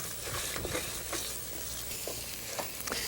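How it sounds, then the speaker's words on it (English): A spoon scrapes and stirs carrot halva in a hot pan, the thick mixture sizzling softly with repeated scraping strokes, close and fairly quiet. "So I'm going to keep stirring this for another 4 or 5 minutes."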